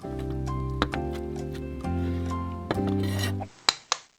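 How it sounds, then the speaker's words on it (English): A knife dices grilled steak on a cutting board beside a Blackstone griddle: a handful of sharp, scattered chops and taps stand out over a steady, humming background. "let's get these guys all diced up"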